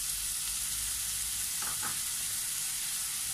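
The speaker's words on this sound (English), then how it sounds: "So ngayon, maglalagay po ako dito ng 1 tablespoon ng soy sauce" Pork belly sizzles in a pan as soy sauce goes in, a steady, close, dense hiss that runs throughout with a brief bubbling flutter partway through and no voices.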